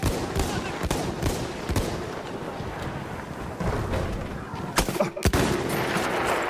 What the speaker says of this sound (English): I'm being sniped from somewhere over near E.